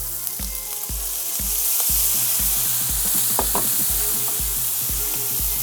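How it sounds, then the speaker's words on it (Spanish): Cuttlefish fries with a tomato sofrito in a pan, a steady loud sizzle broken by regular rhythmic scrapes and stirring strokes about every half second. "Ahora que empieza ya a dorarse la sepia, le añadiremos el pimentón dulce"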